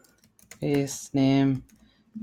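Keys clatter on a computer keyboard as code is typed, quick light clicks running under two bursts of close talking.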